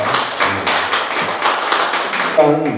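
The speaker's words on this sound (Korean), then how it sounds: "우리 한번 그 공로를 높이 우리가 취하하며 한번 크게 박수해 주시기 바랍니다." A crowd at a university president's inauguration ceremony applauds with steady, rhythmic clapping that continues throughout, and a voice cuts in briefly near the end.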